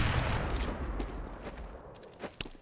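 Gunfire from an AK rifle landing a headshot during a Counter-Strike match replay: a dense burst of sharp shots early on, then a few separate cracks toward the end, with no talking.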